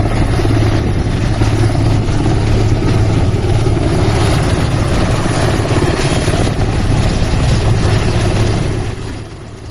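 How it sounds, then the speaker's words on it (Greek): Rescue helicopter setting down on a bare mountaintop during a mountaineer rescue in Drama, Greece, its rotor and turbine roaring loud and close with a steady low thrum and blade chop throughout, easing slightly at the end. "είναι η στιγμή που το αεροσκάφος προσγειώνεται στο φαλακρό για να παραλάβει τον ένα νεκρό και τον ένα βαριά τραυματία"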